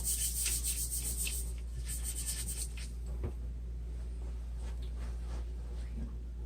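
Abrasive pad scrubbing heavy rust off the metal of an H&R shotgun, a steady close rasping rub with repeated back-and-forth strokes, loudest in the first few seconds and continuing without talk.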